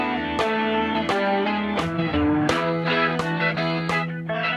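Electric guitar plays the third fill of a guitar solo at reduced speed, a run of about nine sharply picked, sustained distorted notes at a steady rhythm, up close and alone.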